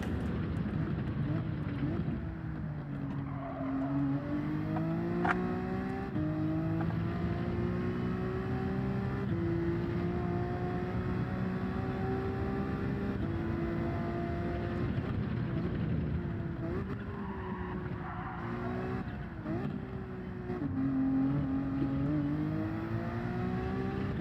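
A racing car's engine drones and shifts pitch through gear changes under braking in the Gran Turismo 7 video game, a steady loud roar that rises and falls continuously throughout.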